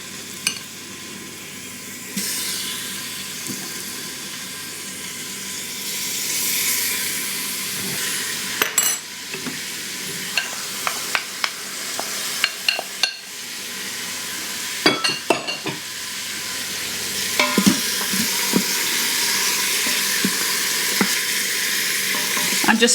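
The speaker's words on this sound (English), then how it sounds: "I can hear it sizzling now" Chicken skins sizzle steadily in a frying pan, a continuous crackling hiss broken by sharp clinks and scrapes as the pieces are turned, with no voices.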